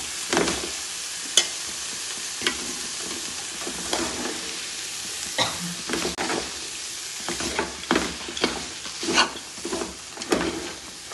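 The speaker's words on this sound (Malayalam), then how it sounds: "ഇനി നമുക്കിത് നന്നായി ഒന്ന് ഇളക്കി കൊടുക്കാം." A spatula stirs a sizzling ginger mixture for Kerala-style puli inji in a hot pan, with steady frying hiss and repeated scraping strokes over about eleven seconds.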